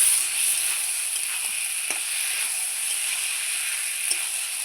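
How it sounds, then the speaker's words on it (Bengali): Fried bottle gourd sautés with spices and water for a fish curry, giving a constant hissing sizzle with a few soft clinks and scrapes of a spatula, close and unbroken by talk. "এই মশলার সঙ্গে একটু লাউটাও কষিয়ে নেব।"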